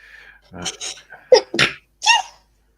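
A single sharp sneeze with a short breathy intake before it, close and loud, then quiet.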